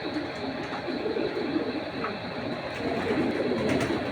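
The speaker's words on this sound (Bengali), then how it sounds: "দেখেন কবুতরগুলো সাইজ আলহামদুলিল্লাহ অনেক সুন্দর" Racing pigeons coo in low, throaty bursts that repeat close by over a steady background hum. A faint voice is barely present.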